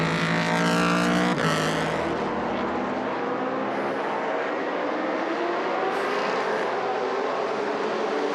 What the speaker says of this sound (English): Out of the pit lane for the Ferraris as well.